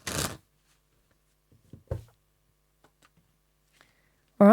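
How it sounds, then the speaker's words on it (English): Tarot cards are shuffled in a few short, crisp riffling bursts, one at the start, another near the middle and a final one at the end, with near silence between them and no talking. "Let me just do one more shuffle."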